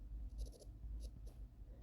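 Marker or chalk writing an equation on a classroom board, a few short scratchy strokes in quick succession, faint and close over a low room hum.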